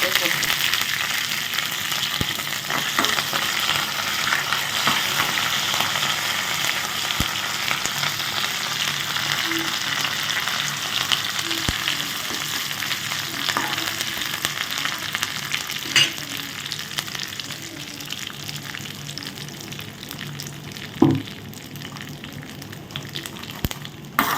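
Mustard seeds and dried red chillies fry in hot oil for a peanut chutney, giving a continuous loud sizzle with scattered sharp pops and crackles throughout.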